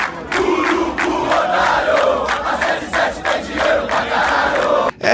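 Vasco football fans chant in unison in a stadium, a loud rhythmic mass of voices with pulsing accents that carries on for several seconds and cuts out briefly near the end.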